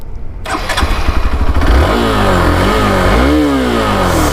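A Hero Xpulse 200 4V motorcycle, a 2022 BS6 model, cranks briefly, then its engine catches and settles into a loud, close idle with a couple of short revs.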